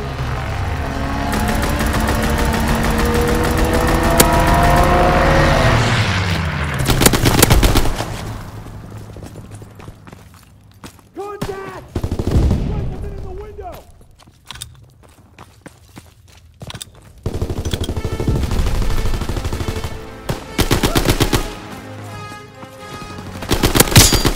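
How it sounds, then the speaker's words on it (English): Strafing-run gunfire and explosions in Call of Duty: WWII team deathmatch, loud bursts of automatic fire, quieter gaps with distant shots and footsteps, then heavy firing again toward the end. "Strafing run inbound."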